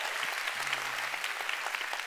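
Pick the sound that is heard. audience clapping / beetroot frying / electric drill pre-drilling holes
audience clapping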